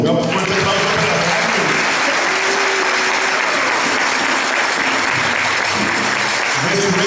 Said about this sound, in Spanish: Un fuerte aplauso para San Andrews.